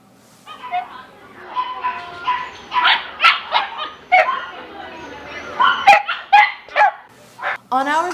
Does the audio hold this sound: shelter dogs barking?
yes